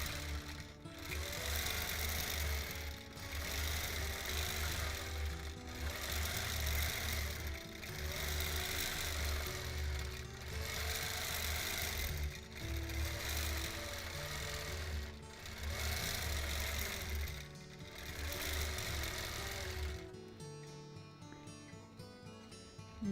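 A sewing machine stitches steadily during free motion quilting of a custom mountain-themed quilt, a dense continuous mechanical whir with slight rhythmic pulsing, running close and loud for about twenty seconds before stopping abruptly.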